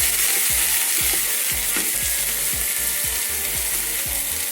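Garlic sizzles and fries steadily in a hot pan for a ginger stir fry, a dense continuous crackle with regular thumping knocks of a spatula or stirring, loud and close throughout with no talk.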